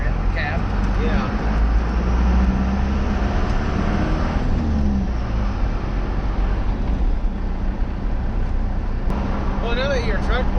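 A Ford F350 Bullnose pickup truck runs with a steady, loud, broadband engine rumble and hiss that holds throughout, while people talk over it.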